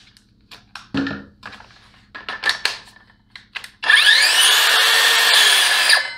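A Milwaukee M12 Fuel impact driver drives into a 2x4: after a few short knocks and handling sounds, a loud, steady whine with rapid hammering starts and runs unbroken for about two seconds, close by.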